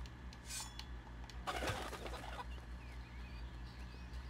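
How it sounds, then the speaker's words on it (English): A chicken clucks in the video game Fable, a few soft, distant clucks over faint game ambience and a low steady hum. "Chicken!"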